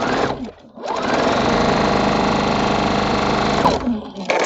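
A sewing machine stitches quilt block seams in one long, fast, steady whir, close and loud, with brief pauses and handling noise at the start and end.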